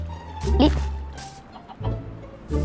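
Chicken clucking in the Minecraft video game, a few short clucks under background game sound, with people talking nearby.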